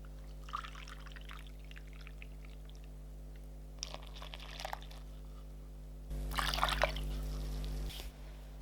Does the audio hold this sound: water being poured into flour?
yes